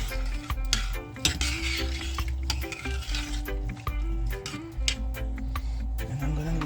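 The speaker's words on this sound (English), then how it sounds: "I'm gonna give it a stir" Rice being stirred in a pot for a Jamaican tin mackerel and white rice meal, with soft scraping and clinking of the spoon against the pot over a steady low kitchen hum, close and moderately loud.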